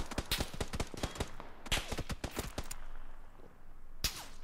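Rapid gunfire in the PUBG battle royale video game, a dense burst of sharp repeated shots for about two seconds, a brief lull, then a single loud shot near the end.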